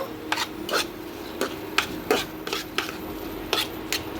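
Taro leaves being stirred and mixed with chilli, turmeric and salt for a prawn dish, a utensil scraping and rasping against the pan in a steady series of close strokes, with no talk.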